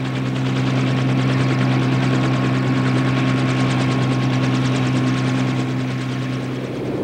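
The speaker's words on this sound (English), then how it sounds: "The biggest helicopters carry 10-ton artillery pieces to remote encampments called fire" Military helicopter from Vietnam War footage flying steadily and loudly throughout, with a constant rotor beat and a low engine drone and no breaks.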